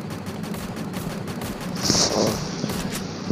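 Gunfire in the Free Fire battle-royale game: dense, continuous bursts of shots with a brighter, louder volley near the end of the stretch.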